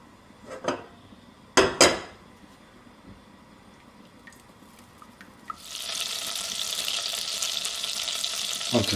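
Eighty grams of butter melts in a pan over very low heat for béchamel. A couple of sharp knocks come first, then a steady, soft sizzle takes over and continues.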